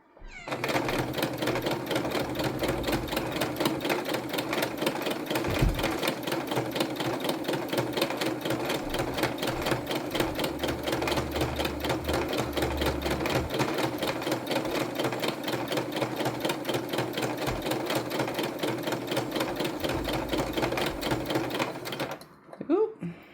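A home sewing machine stitches at slow to medium speed while sewing a tote bag, a steady rapid mechanical chatter that runs close and unbroken for the whole stretch before stopping at the end.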